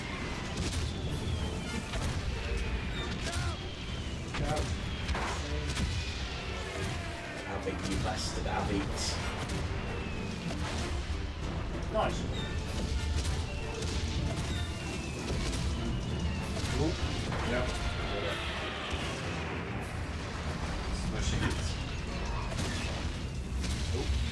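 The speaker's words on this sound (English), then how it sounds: "Unnecessarily fire guns, more explosions." Dense, continuous gunfire and booming explosions from the game Valiant Hearts, loud throughout with overlapping impacts and mechanical clatter.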